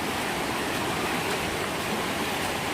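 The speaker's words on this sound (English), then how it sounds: "But wow, look at that river." A river rushes along the Appalachian Trail, a loud, steady broadband roar of flowing water filling the whole stretch without pause and with no talking.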